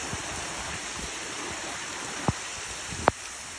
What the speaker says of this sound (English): Oh, this is not a hurricane, this is just rain.